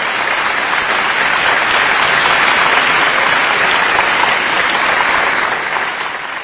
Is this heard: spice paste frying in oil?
no